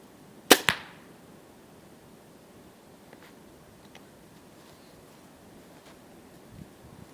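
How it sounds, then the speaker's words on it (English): A crossbow is shot outdoors with one sharp release snap and a quick follow-up thud, close and brief, then only faint wind and rustling for the rest. "Now the crossbow."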